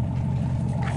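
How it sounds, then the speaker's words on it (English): A Chevy 5.3 Vortec truck engine with cat-back straight pipe exhaust rumbles close and steady in a deep, low drone for a brief moment. "Don, you start your truck now."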